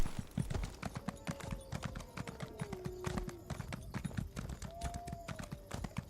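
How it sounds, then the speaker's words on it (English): Horse hooves in The Elder Scrolls Online clip-clop in a steady, fast trot that stays close and fairly quiet for several seconds. A high, drawn-out tone slides through the middle and returns near the end. "It's funny that they can actually strafe with the horse"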